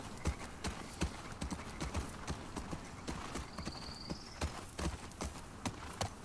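Horse hooves clip-clop at a steady walking rhythm in The Last of Us Part 2, close and fairly loud, with a brief whinny partway through.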